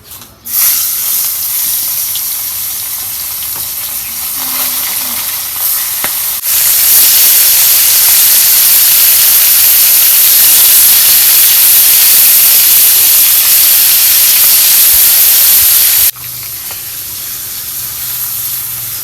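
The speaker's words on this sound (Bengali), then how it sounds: "এখন তেল দিয়ে দিতেছি মাছ ভাজা খাবো" Tilapia fish fries in hot oil, a loud, steady sizzling hiss that swells sharply in the middle stretch, then drops back to a lower crackle.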